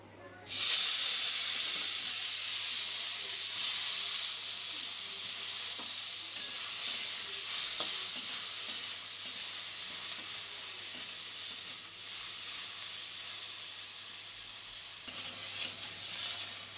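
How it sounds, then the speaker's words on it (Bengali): Eggplant pieces fry in hot oil in a pan, giving a loud, continuous close-up sizzle and hiss that runs steadily for many seconds with occasional stirring. "এখানে দেখো, বেগুনগুলো প্রথমে আমি ভেজে নিচ্ছি।"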